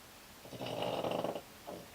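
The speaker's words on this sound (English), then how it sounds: "Stop snoring." A dog snores softly nearby in a bedroom, one long rasping breath followed by the faint start of another.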